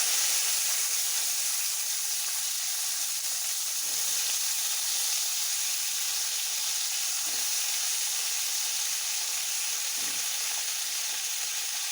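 Vegetables frying in hot oil with spices for Bengali shukto, a steady close sizzle throughout with faint stirring knocks around a few moments.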